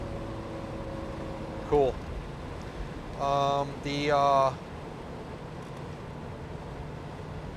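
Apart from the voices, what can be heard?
1983 GMC Vandura van driving at 60 mph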